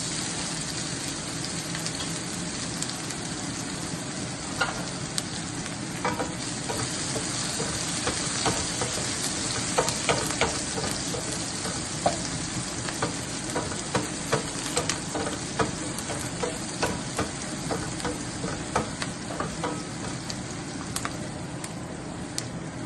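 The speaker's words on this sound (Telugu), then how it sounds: "కొంచెం ఫ్రై అవ్వనిద్దాము ఆనియన్స్ని ఆనియన్స్ ఫ్రై అవుతున్నాయి కదండి" Onions frying with cumin seeds and chana dal in a pan for a Swiss chard leaf curry, giving a steady close sizzle with scattered stirring clicks and no talk.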